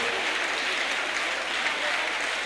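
A church congregation at an evening revival service cheering and applauding, a dense, steady wash of clapping and voices that holds loud and even throughout.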